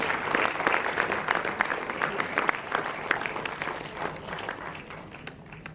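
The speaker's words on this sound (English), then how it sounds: "Ladies and gentlemen, can we have a round of applause for the winners" An audience at a foundation day celebration for a research laboratory claps for award winners in a dense burst of applause that slowly fades near the end.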